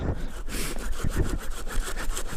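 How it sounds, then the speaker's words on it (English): A hand saw cuts through a sticky tree in the Papineau-Labelle woods, making close, rhythmic back-and-forth rasping strokes that repeat steadily. "It was time to break out the saw again"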